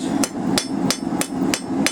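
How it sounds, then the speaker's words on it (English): Light hammer blows strike steel that is cooling toward a black heat while a coal fire rake is forged, six sharp evenly spaced ringing hits over a steady low background hum. "So go ahead with some light hammer blows."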